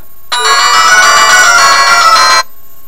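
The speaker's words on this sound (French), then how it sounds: "Voilà, vous avez 5 sonneries disponibles." A Classic Look 2 senior mobile phone plays a ringtone: a single loud, bright electronic bell-like tone that starts abruptly, holds steadily for about two seconds, then cuts off, with no talking.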